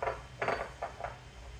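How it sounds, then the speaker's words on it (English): A lid clatters onto a jar of homemade Worcestershire sauce in a kitchen: three or four brief glassy-metallic clinks at an uneven pace, quiet and close, with no talking. "Get that lid on a little bit."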